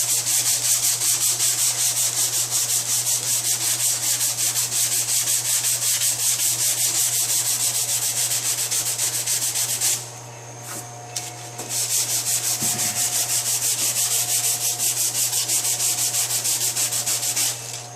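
Steady rasping strokes of 80 grit sandpaper working over body filler on a 2005 Honda S2000 under repair after autocross damage, continuous and close with a brief pause near the middle, no talk.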